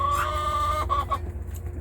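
Chickens and guinea fowl clucking and calling together outdoors, a steady overlapping chatter of birds close by with a brief higher call standing out, no voices.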